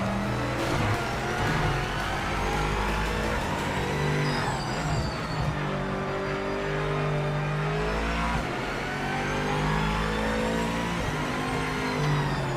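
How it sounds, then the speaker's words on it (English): A GT3 race car engine in the sim racing game Project Motor Racing revs loudly and continuously, pitch climbing through gears with upshift dips, tire noise underneath, no talking. "are the sounds that come from the car in PMR"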